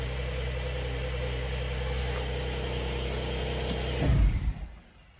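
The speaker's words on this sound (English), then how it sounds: "I'm gonna turn off the car." A 2023 Porsche 911 engine idles with a steady low hum, then shuts off with a brief thump and shudder as the sound dies away to near silence.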